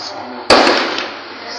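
A single sharp gunshot-like bang cracks out during a bank robbery in Uromi, Edo State, Nigeria, loud and close, then decays over ambient street noise and a murmur of voices.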